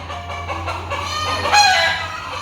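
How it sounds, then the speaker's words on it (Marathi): Chickens cluck in short bursts close by, then a rooster lets out a loud crow near the end. "कोंबड्या ओरडत आहेत"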